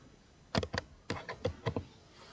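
Several crisp key presses on a computer keyboard, a quick run of clicks including the Enter key, close and clear in a quiet room.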